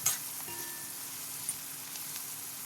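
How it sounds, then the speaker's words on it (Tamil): Onions with salt sauté in a pan, giving a faint, steady sizzling hiss with a few soft clicks and pops, heard alone without any voices. "தேவைக்கேற்ப சால்ட்டு போட்டு நல்லா வதங்கட்டும்."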